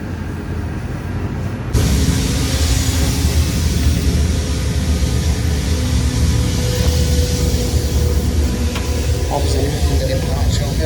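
Inside a regional passenger train running from Swan Hill to Bendigo, a loud, constant rumble and rattle of the carriage kicks in abruptly after a quieter start, with occasional creaks and squeals.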